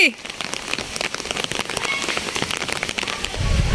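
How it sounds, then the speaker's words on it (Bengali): Steady rain patters on a surface, a dense continuous hiss of drops throughout with no break. "আসো বৃষ্টিতে ভিজি।"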